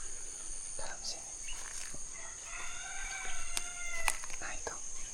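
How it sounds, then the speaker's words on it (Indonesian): Wild Sulawesi junglefowl call repeatedly from a distance, short crowing phrases rising over steady insect buzz and forest ambience, with faint talk. "ayam hutannya bunyi terus dalam sini"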